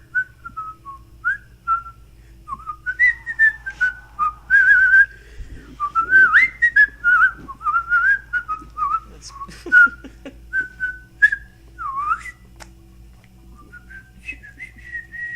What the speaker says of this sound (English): the music, which was an eerie whistling tune